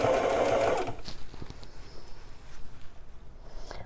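A sewing machine hemming a pair of jeans whirs in a fast, loud stitching burst, then drops to slow, quiet hand-cranked clicks and taps close by.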